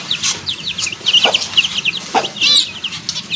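Chickens clucking in a backyard coop at feeding time, a series of short, close, moderately loud clucks in irregular bursts with bird chatter and no talk.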